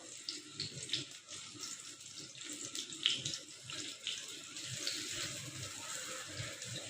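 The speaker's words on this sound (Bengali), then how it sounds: "বেগুনটাকে আমি ফ্রাই করার জন্য তেলে দিয়ে দিচ্ছি একটা একটা করে" Brinjal (eggplant) pieces fry in hot oil with a continuous hissing sizzle that rises and falls slightly as more pieces go in. No one speaks.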